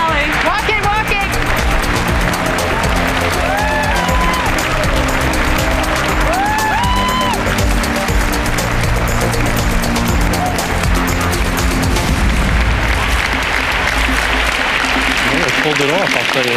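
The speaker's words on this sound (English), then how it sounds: "People were clapping." Audience applause and cheering after a fashion show finale, a loud, sustained crowd clapping that fills the whole stretch, with voices calling out over it.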